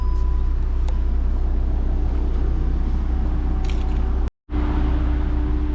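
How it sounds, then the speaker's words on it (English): A steady mechanical hum with faint creaks runs for several seconds, then cuts out abruptly before resuming, as the power rear hatch of a 2019 Jeep Cherokee Limited drives closed. "Push button to close the rear hatch."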